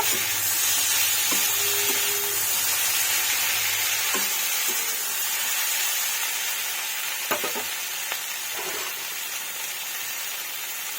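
Grated ginger fries in a pan for Ekadashi khichuri, a steady broad sizzle and hiss with a few spoon scrapes and knocks, and a low hum that cuts out early, with no talking.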